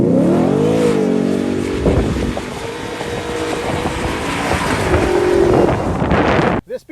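A 2023 Ford Raptor R engine revs loudly on sand dunes, a rising and falling roar with wind buffeting the microphone, ending abruptly.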